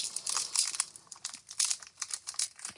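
Foil wrapper of a K-pop Demon Hunters trading card booster pack being pulled and torn open by hand, giving close, irregular bursts of bright crinkling and crackling with short pauses between.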